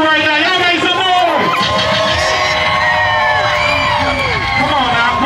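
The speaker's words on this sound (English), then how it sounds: "Y'all make some noise for Trina right now." A loud, dense crowd at the Carol City Picnic cheers and screams for Trina continuously, with overlapping whoops and yells filling the space.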